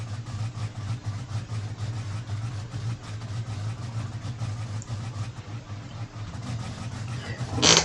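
A 500 cubic inch big block truck engine in BeamNG.Drive idles with a steady, deep low rumble that holds evenly throughout, then swells briefly louder right at the end.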